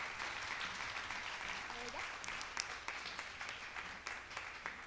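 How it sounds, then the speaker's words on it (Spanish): Audience applause fills a church during a Sunday celebration service, a steady wash of clapping throughout with a few sharper individual claps standing out and some voices mixed in. "Aplausos para Fer, por favor,"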